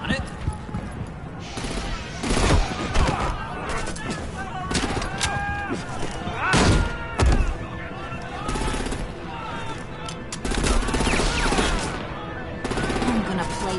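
Gunfire in the video game Batman: The Enemy Within, a dense stretch of sharp shots and bursts layered with game sound effects and music, loud and continuous, with in-game voices speaking over it.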